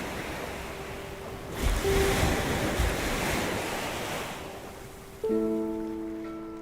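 Surf washing onto the shore of Buzzards Bay, a steady soft rush of breaking waves with wind buffeting the microphone, swelling in the middle, then a tonal hum enters near the end; no one speaks.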